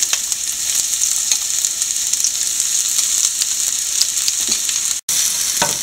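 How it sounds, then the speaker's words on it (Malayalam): Grated coconut browns in a spoonful of ghee in a pan for a Kerala vanpayar and pumpkin erissery. A steady, close sizzle runs throughout with faint stirring clicks and breaks off briefly near the end. "കുറച്ച് തേങ്ങ ബ്രൗൺ നിറത്തിൽ നമുക്ക് വറുത്തെടുക്കാം"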